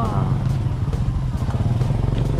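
A motorcycle engine runs with a steady low throbbing rumble close by, continuous and fairly loud throughout, with faint ticking clatter on top and no clear speech.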